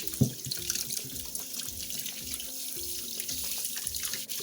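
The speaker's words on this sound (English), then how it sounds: "the first thing we're going to do is to go ahead and wash our cassava very well" Cassava being washed under a running kitchen tap, a steady rush of water into a sink with splashing and handling noises, close and continuous, no voices.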